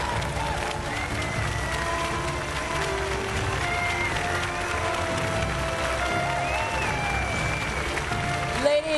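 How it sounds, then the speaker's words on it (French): Large audience at the Bocuse d'Or culinary competition gives sustained applause with cheering, dense and loud throughout, with whistles and raised voices rising over the clapping. "Je vous demande d'applaudir le président du jury international, Monsieur Rasmus Koffed."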